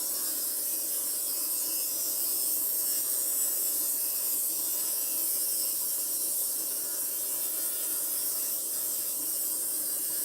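A pulse motor with a spherical rotor and eight magnets spins at about 720 RPM, giving a steady, even electrical whine and hum with a high hiss, unbroken throughout and with no talking.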